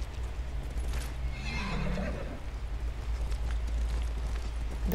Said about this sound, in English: The horse doesn't like me very much.